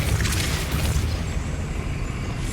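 Depulso spell cast in the Hogwarts Legacy video game, a loud, dense, rumbling magical boom that fills the moment and then trails off.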